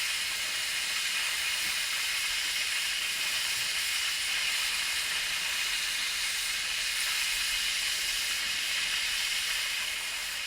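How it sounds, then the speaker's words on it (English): Steady broadband hiss of steam escaping from elderly Irish railway carriages heated from a boiler in the generator coach, loud and constant for the whole stretch with no voices. "passengers change to a somewhat elderly train consisting of carriages spewing out steam"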